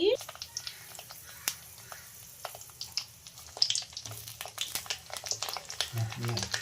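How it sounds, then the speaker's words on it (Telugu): Stuffed brinjals deep frying lightly in oil, a steady soft sizzle with scattered crackles and pops throughout, fairly quiet and close, without speech. "గుంతంకాయని ఆయిల్లో డీప్ ఫ్రై చేసుకోవాలి లైట్గా"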